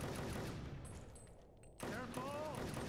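Rapid gunfire in the shooter game Inversion, dense crackling bursts that thin out briefly and then return loud, with a voice shouting over the shooting.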